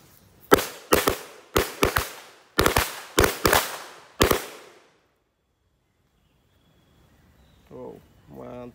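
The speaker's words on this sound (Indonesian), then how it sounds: "Bang coba nyalakan mercon korek di dalam tanah" Korek firecrackers explode buried in the ground, a rapid string of about eight loud muffled bangs in quick succession, some doubled, before quiet and then a voice talking.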